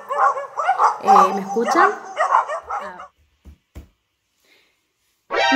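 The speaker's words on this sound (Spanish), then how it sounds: "Se han puesto a pelear unos perros" Dogs fighting nearby, a run of loud barks, yips and whimpers lasting a few seconds, then a brief quiet before a voice speaks.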